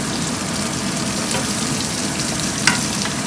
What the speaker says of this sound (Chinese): 茄子倒进来，我们再加点那个青葱进来